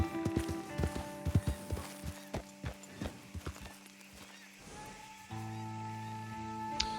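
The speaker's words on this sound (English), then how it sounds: "That's my horses breathing." A horse in the Red Dead Redemption 2 video game snorts and breathes close by, with a run of steady hoof clops and a low sustained musical drone underneath.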